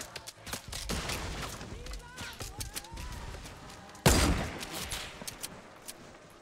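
Sniper gunfire in the Fortnite battle royale game: scattered sharp shots through a busy in-game soundscape, with one loud, close crack about two-thirds of the way in, followed by fainter reports.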